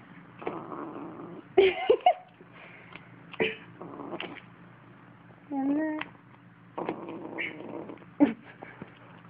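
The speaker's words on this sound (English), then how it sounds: "I want to show you what a food-aggressive kitten looks like." A food-aggressive kitten growls over its food dish in low, rumbling bursts mixed with short hisses and a rising yowl, close and fairly soft, with quiet gaps between outbursts.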